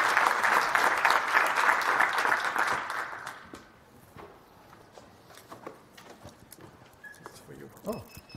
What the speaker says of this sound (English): let's have a round of applause for the speaker